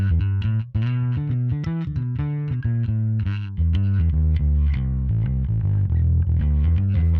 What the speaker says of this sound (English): not what I would call, high gain overdrive or distortion. It's very vintage, low gain.